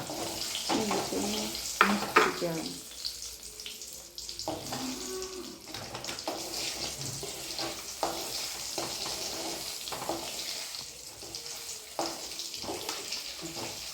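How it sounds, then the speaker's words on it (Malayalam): Urad dal fries in hot oil with a soft, steady sizzle, faint and continuous, broken by occasional spoon clinks and stirring noises close by. "ഉഴുന്നൊന്ന് മൂക്കട്ടെ കേട്ടോ."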